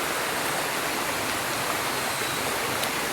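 A river crossed on a rural shortcut path in the Philippine countryside flows steadily, a continuous broadband rush of water that stays even throughout, with no voices.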